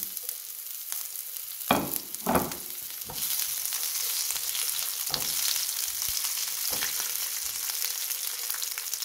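Garlic and onion sauté in a hot pan, a steady sizzle throughout with a couple of louder stirring scrapes early on and lighter clinks later, no talking.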